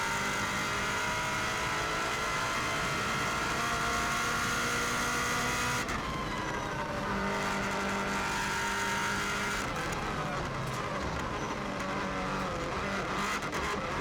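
A 2016 Subaru WRX STI races flat out on the Isle of Man TT course, its engine roaring loud and close with rising and falling revs through gear changes, a continuous strained drone from inside the car.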